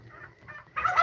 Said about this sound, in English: Random free-range chickens.